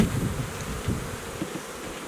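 Honeybees buzz steadily and close inside a strong hive set up for rearing queens, a dense continuous hum with no voices.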